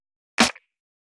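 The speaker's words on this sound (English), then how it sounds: "And then I have this layered snare. So the snare is 2 layers." A single crisp two-layer snare drum sample hit with a bright, snappy crack and a short tail, heard alone.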